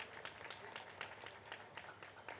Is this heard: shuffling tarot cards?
no